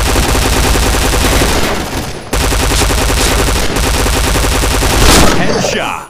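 Loud, sustained automatic gunfire in the Point Blank video game, with a P90 Ext submachine gun firing in long continuous bursts and one brief break, loud and close throughout.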